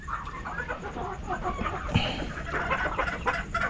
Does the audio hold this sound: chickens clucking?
yes